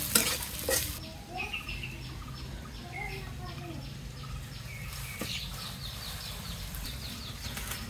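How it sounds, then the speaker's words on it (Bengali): Sliced onions fry in a pan for a potato dish, browning to a reddish colour. A soft, continuous sizzle runs under occasional stirring scrapes at moderate distance, with faint chirping in the background. "পেঁয়াজগুলো একটু লাল লাল করে ভেজে নেব।"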